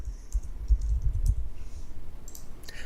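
Computer mouse clicks on a fund-screening website, a few sharp, close taps clustered early and a couple more later, with no talking.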